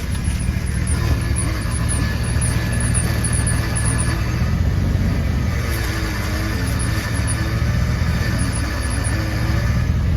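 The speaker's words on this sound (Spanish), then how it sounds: "tienen un ruido en el volante cuando giran lo que viene siendo el volante" Thin high-pitched squeal from a car's steering as the wheel is turned, repeating in short chirps over a steady low engine rumble, fairly close and continuous.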